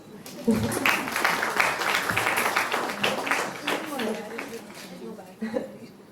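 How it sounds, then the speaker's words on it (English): Audience applause at a book launch greets Ekta Kapoor, a steady burst of clapping across the room with murmurs and chatter mixed in, fading slightly toward the end. "Applause."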